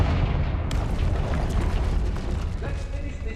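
Confringo fire spell explosions from Hogwarts Legacy fill the space with a heavy, continuous booming roar, loud and close throughout, with a sharp crack near the start.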